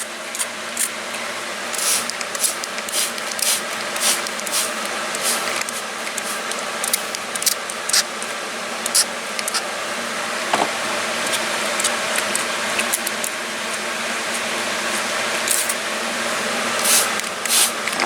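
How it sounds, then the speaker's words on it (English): A spray bottle mists water over seed trays of gayfeather (liatris) seeds, giving a steady soft hiss broken by faint trigger clicks and short puffs, close and continuous with no talking. "take my spray bottle here, which is being a little temperamental"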